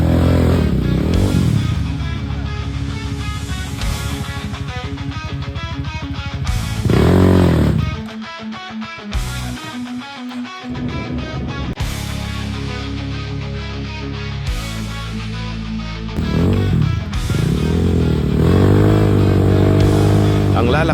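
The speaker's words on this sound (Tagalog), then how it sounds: "Ang lalakas ng motor nila." Several motorcycles revving loudly on a rocky trail, engines rising and falling in bursts with brief pauses, close by and prominent, with some voices underneath.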